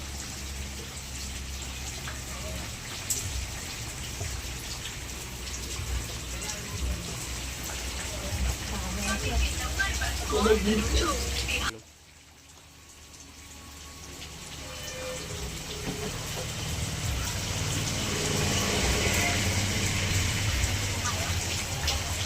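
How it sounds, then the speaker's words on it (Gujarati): Steady rain hissing down with a constant wash of noise, briefly cutting out midway before returning and swelling again. "આ વરસાદ સાહેબ કેવો પડે"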